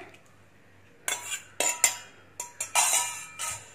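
A metal spoon stirs curd into rice in a pot, a series of sharp clinks and scrapes at close range after a quiet start.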